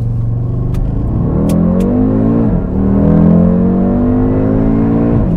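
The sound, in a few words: five-cylinder car engine accelerating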